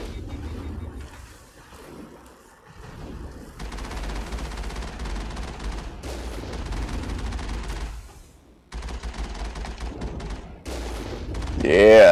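Bursts of rapid gunfire and fusillades while shooting enemies in the video game Mass Effect, with loud dense volleys separated by brief pauses and a voice talking over part of the clip.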